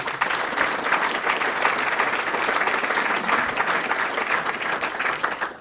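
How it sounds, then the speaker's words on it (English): A dinner audience at the Greater Meadville Area Day event claps for local sponsors, a full, continuous round of applause that holds steady at moderate loudness from start to finish. "Big round of applause for those folks."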